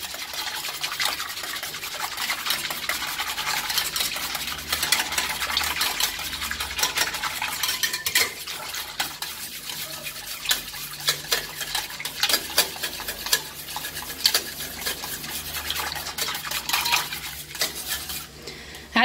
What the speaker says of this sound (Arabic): نضربوه مزيان مع داك البيضه والزيت حتى يتخلط لينا مزيان